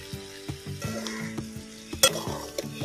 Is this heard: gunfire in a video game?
no